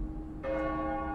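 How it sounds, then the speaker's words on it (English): A church bell rings in a TV drama episode with a single clear strike and a sustained, ringing tone. It is heard alone with no voices. "we got some bells"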